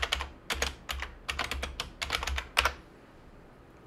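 A search query typed on a computer keyboard while Internet Explorer runs on an old Windows ME machine: a close, crisp run of rapid key taps in bursts that ends in quiet after about three seconds.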